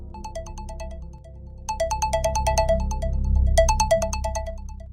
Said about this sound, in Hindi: मोबाइल की रिंग बजी